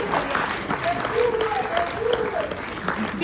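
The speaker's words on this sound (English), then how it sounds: "Please, a round of applause for him." Audience at an indie film festival opening in Accra applauds to welcome a filmmaker, steady clapping layered under someone speaking over a microphone.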